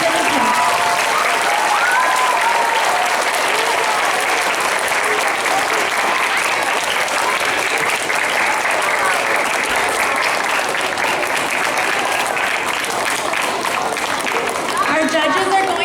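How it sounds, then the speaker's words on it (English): Sustained applause from a school speech contest audience, steady and full for about sixteen seconds, dense clapping with a few faint voices mixed in. "Let's give a round of applause to all of our speech participants"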